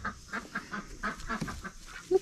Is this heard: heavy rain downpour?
no